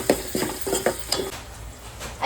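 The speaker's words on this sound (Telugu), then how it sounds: "అల్లం పేస్ట్ కూడా వేసుకొని పచ్చి వాసన పోయే వరకు అయితే బాగా ఫ్రై చేసుకోవాలి" Onions and ginger paste frying in a pan, with a few quick scraping stirs of a utensil over a steady close sizzle that settles into a soft hiss.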